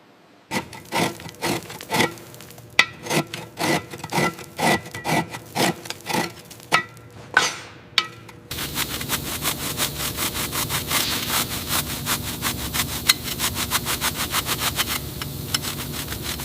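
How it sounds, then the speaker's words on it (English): Sturdy metal scraper working heavy corrosion off a sunken school bus's metal body, first in a string of distinct rhythmic rasping strokes, then a steady continuous scraping roar, loud and close. "We use a sturdy scraper to get through the heavy corrosion and reveal the metal underneath."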